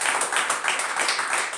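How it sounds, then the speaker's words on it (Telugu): Congregation clapping hands at a Sunday church service, a dense continuous patter of many hands, fairly faint and steady throughout without a clear beat. "చప్పట్లు కొట్టి."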